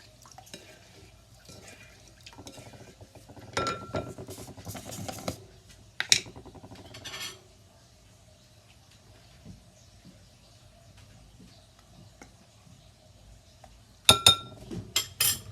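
Homemade no-cook playdough ingredients, including cornstarch, stirred together in a bowl, giving scraping and clinking bursts around the middle and near the end, with quiet stretches between.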